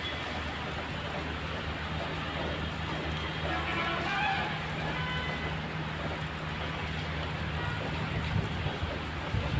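Heavy rain falls in a steady, dense hiss with no pauses, nearby and fairly loud, with some wind-like rumble mixed in.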